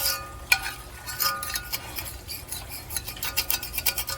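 A utensil stirring and scraping in a pan while deglazing roasted chicken leg drippings, a string of close, irregular clinks and scrapes.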